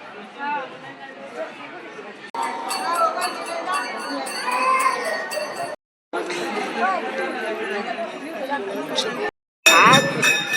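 A dense crowd chatters at a busy temple on a Friday, many overlapping voices with children shouting and metallic clinks, close and continuous, broken by two brief silent cuts.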